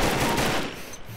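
Gunfire from the Combat Arms shooter game crackles in a rapid, dense burst of shots, loud and close, fading slightly toward the end.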